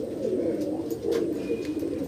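Pigeons coo in a low, continuous murmur at a breeding loft with nesting birds, the soft throaty calls steady and fairly close throughout, with a faint higher chirp briefly overlaid.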